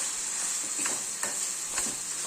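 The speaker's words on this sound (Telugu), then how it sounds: "వేసి ఫస్ట్ ఇలాగా ఎర్రగా ఫ్రై అవ్వనివ్వాలి" Brinjal frying in oil in a pan, a steady close hiss with soft stirring scrapes recurring about every half second, no talking.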